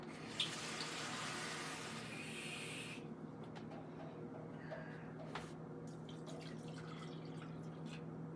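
A cup of water pours into vinegar and brown sugar for a sweet and sour sauce, a short close splashing pour followed by quiet drips in a kitchen.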